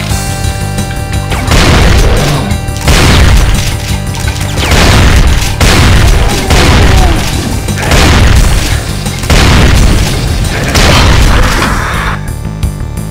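Rocket explosions from the video game Brutal Doom boom loudly again and again, a rapid run of heavy blasts one after another with crashing debris and little pause between them.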